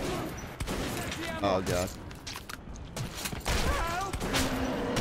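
Gunfire in the first-person shooter Metro 2033: a few sharp, loud shot bursts scattered through the clip under an excited player's talk, along with some mechanical creaking.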